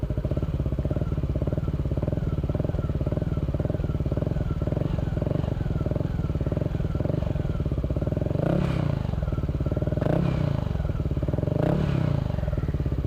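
A motorcycle fitted with a Villan SR1 aftermarket exhaust idles nearby with a fast, even throb, with a few brief blips of throttle toward the end.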